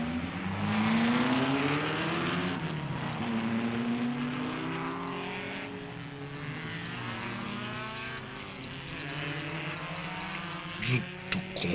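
Engine drones of passing cars and other vehicles in a Japanese film soundtrack, a dense, continuous rumble with shifting pitch sweeps, some brief clicks near the end.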